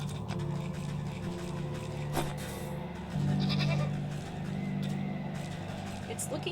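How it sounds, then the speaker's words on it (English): A mountain goat in the video game Wytchwood gives a couple of drawn-out bleats over steady game ambience, with speech running alongside. "A mountain goat. A shaggier cousin of the familiar goat?"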